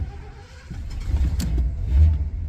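A 1985 Mercury Marquis with a 351 Windsor V8, just through cam break-in, idles nearby with a low uneven rumble that swells slightly. No one speaks.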